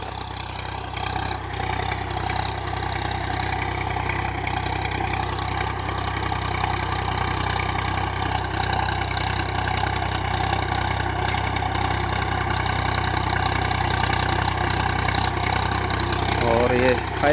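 A 2021 Swaraj 744 FE tractor engine chugs steadily at idle, a low, continuous rumble up close, with voices talking over it.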